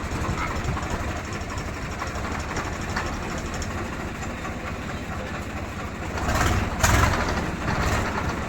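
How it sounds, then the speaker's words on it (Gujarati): A tractor engine running steadily up close, a continuous rumbling drone that swells louder for a moment near the end, with no talking over it. "આ રીતે ટ્રેક્ટરનો ખાલી અવાજ સાંભળે મિત્રો"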